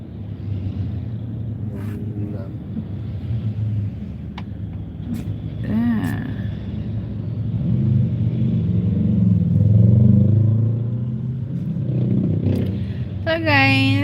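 Heavy, backed-up road traffic at dusk, a continuous low rumble of engines with occasional revving and horn beeps, a voice talking over it at times.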